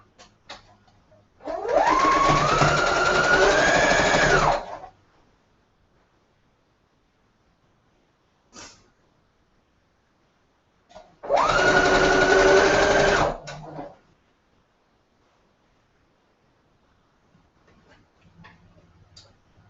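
Sewing machine stitching quilt seams, two steady whirring runs of about three seconds each separated by a quiet pause, with small clicks between and no talking.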